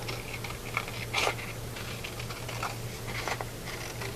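Scissors trim a little off the edge of a paper circle for a paper cylinder, giving soft, quick snipping and rustling taps, faint and close, over a low steady hum.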